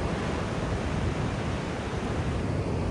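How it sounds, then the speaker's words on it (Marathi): Rough, churning sea by a clifftop temple at Uluwatu, Bali, heard as a steady, dense wash of surf noise with wind mixed in, continuous and fairly loud throughout, with no voices. "इथे हा पूर्ण समुद्र खवळलेला आहे आणि इथे आहे मंदिर."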